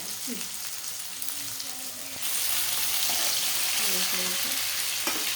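Potato and ginger paste fry in a pan for sagubeyyam upma with a continuous sizzle that grows louder partway through, broken by occasional stirring scrapes.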